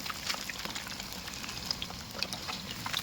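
Nile tilapia deep-frying in hot oil in a home kitchen pan until crisp: a close, steady, dense crackle scattered with sharp little pops, with no talking.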